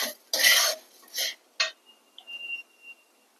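Black edible gum (dink) dry-roasting in a pan for a makhana and seed laddu, a few close scraping, rattling stirs that fade into near silence with a faint thin ring.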